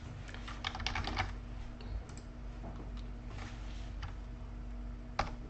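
Typing on a computer keyboard while entering text into a web form's password field, a steady run of light, quick key clicks with brief pauses, moderately close and alone without speech.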